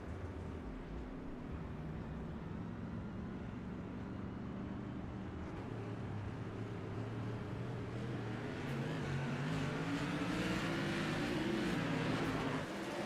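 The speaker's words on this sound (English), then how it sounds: "Listening to the car stumble, he might have run out of fuel." A TRS Tour Modified race car engine drones steadily at a distance, stumbling as it runs out of fuel, its pitch wavering and rising unevenly toward the end, with no voices.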